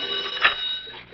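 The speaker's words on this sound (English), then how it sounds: "The phone rang again." Telephone ringing as a sound effect in a 1948 radio comedy, a single short bright ring heard through broadcast-quality audio with no talk over it.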